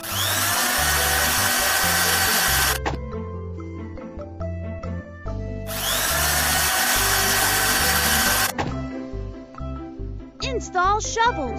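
A cartoon excavator's drill breaks up slate in two long, loud, harsh grinding bursts. Clattering and busy animated sound effects fill the gaps between them.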